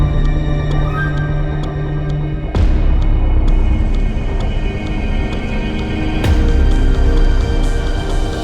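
A DJI Air 3S drone coming back to land at its takeoff spot under return-to-home. It gives a steady whining motor hum with stacked tones over outdoor rumble, and the level shifts abruptly twice.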